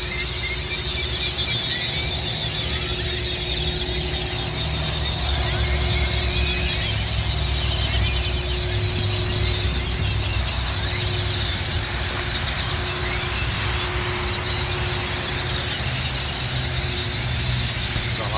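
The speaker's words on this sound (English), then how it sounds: "That's all that noise you're hearing. Just a ton of birds." A huge crowd of birds lined along a wire at a loading dock fills the air with a constant high, squealing chatter over a steady low engine rumble nearby.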